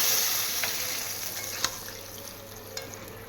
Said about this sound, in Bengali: আমি এবারে রাঁধুনি আর একটু পাঁচফোড়ন দিয়ে আমি ছুঁকে দেবো